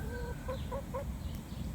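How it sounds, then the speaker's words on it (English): A backyard hen clucks three times in quick, short bursts over a steady outdoor background hiss, with no one speaking. "If I could have a house chicken, she'd be my house chicken."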